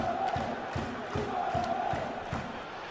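Football stadium crowd in PES 2014, a steady roar of massed fans with rhythmic chanting pulses repeating about every 0.4 seconds, continuous and moderately loud throughout.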